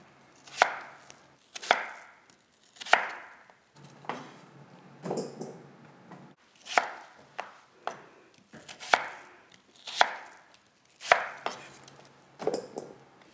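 A knife chops radish into cubes on a cutting board for kkakdugi, giving about a dozen crisp, evenly spaced thuds close by, each cut a sharp knock with a short tail, and no voices.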